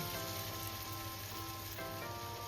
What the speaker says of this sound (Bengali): তেল গরম হয়ে গেছে, এবার আমি বড়াগুলো ছোট ছোট করে মুসুর ডালে বড়াগুলোকে আমি ভেজে তুলে নেব।